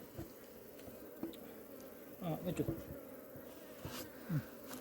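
Bees buzz steadily around a hive while a beekeeper splits a colony and handles the queen, with a few louder swells in the drone and soft voices underneath.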